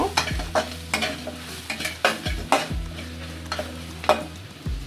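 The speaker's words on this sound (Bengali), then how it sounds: "মরিচের গুঁড়া এক চা চামচ হলুদের গুঁড়া চার চামচের হাফ চামচ খুব সুন্দর করে নেড়ে ছেড়ে নেব" Chili and turmeric powder stirred and fried for beef chana bhuna, a steady sizzle under repeated scraping strokes of a spoon in the pan, each stroke ending in a low knock, with no talk.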